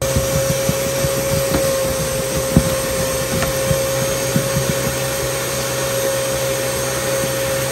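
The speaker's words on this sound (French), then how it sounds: "on va passer un coup d'aspi quand même" A vacuum cleaner runs indoors with a loud, steady whine and hum, close and unbroken throughout, with faint scraping clicks from the nozzle and no voices.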